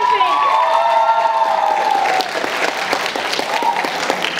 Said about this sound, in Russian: Еще раз аплодисменты!